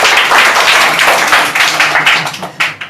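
A classroom of students claps for a classmate, with a burst of dense, close clapping that thins into scattered individual claps toward the end.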